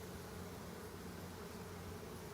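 Bees buzz during a top bar hive inspection as bars are lifted out, a faint, steady, low droning hum that holds for a couple of seconds with no talking.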